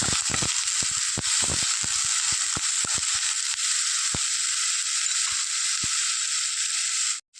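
Sliced onions frying in a pan for Kerala-style bitter gourd and egg thoran, a loud continuous sizzle with scattered clicks and scrapes of stirring, cutting off sharply at the end.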